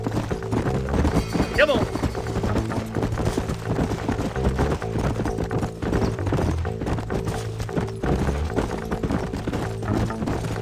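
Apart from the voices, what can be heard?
horses' hooves while riding in the video game Red Dead Redemption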